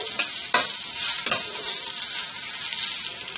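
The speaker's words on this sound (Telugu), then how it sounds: "నల్లేరు ముక్కలు కూడా చక్కగా వేగిపోయాయి దీనిలో ఒక స్పూన్ నువ్వులు వేసుకోవాలి ఈ నువ్వులు త్వరగా వేగిపోతాయి కదా" Sesame seeds and chopped nalleru (veldt grape) pieces fry in a pan for chutney, giving a steady close sizzle with a few brief stirring scrapes and no voices.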